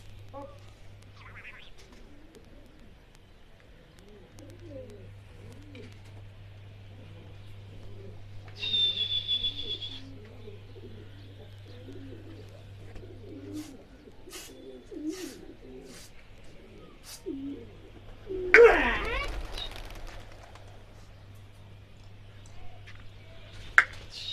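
Soft, low cooing from pigeons repeats quietly in a calm setting, with a brief flutter of wings and a few scattered clicks.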